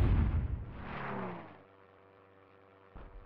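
Mortar fire in Hogs of War: a loud booming blast rolls out and fades into a low hum, followed by a sharper thump near the end.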